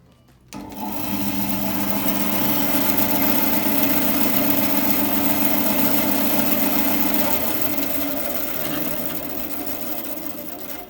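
A bandsaw fitted with a thick blade runs as a steady, loud mechanical whir with a low motor hum, starting up abruptly just after the opening and holding constant before easing slightly toward the end.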